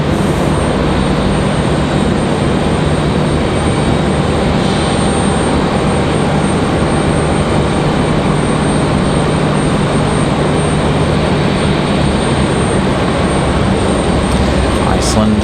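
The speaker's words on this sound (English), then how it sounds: "Looks like our MD-11 is going to get an early move on tonight." A McDonnell Douglas MD-11 at Raleigh-Durham International Airport produces a loud, continuous roar of jet engines, steady and close throughout, with a faint voice occasionally underneath.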